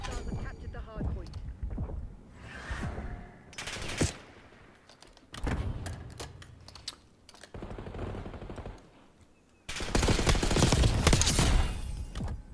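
Bursts of automatic gunfire from a Black Ops 6 ranked match crackle in rapid volleys, some short and some long and sustained, loud and close, with voices talking between the bursts.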